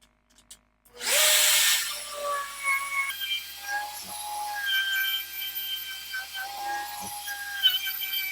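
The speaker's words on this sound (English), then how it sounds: "This will keep it nice and stable while using the router to flatten it." Router with a sled flattening a wooden log slab, a sharp high whine as the motor spins up, then a steady cutting drone with wavering tones and occasional knocks, close and continuous.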